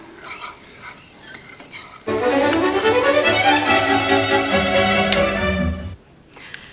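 An omelette with langoustines sizzles steadily in a hot pan for several seconds, loud and close, with quieter moments just before and after.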